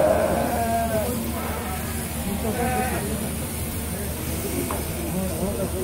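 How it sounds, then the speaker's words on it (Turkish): Sheep bleat at a women's national shearing championship final, a few wavering calls over a constant hiss of shearing machinery and crowd noise. "Bakalım hangi yarışmacı en kısa sürede koyunu kırkacak?"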